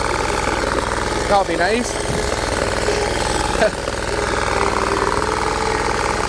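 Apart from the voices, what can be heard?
Bolens 1600H garden tractor engine idling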